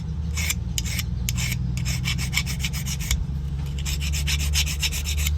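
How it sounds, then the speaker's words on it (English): Dry, rasping strokes of sandpaper worked along the spine of a 2002-2008 Honda key blade, steady back-and-forth rubbing repeated in quick bursts, close up with no talking. "Again, you're only sanding here."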